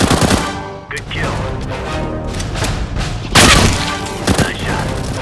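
Gunfire in a video game, with loud sharp shots and bursts of rapid fire, heavy impacts, and background game noise throughout.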